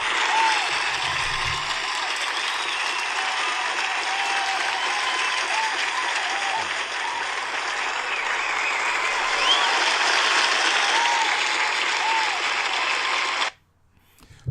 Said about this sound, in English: let's just give a huge round of applause to Frank Warren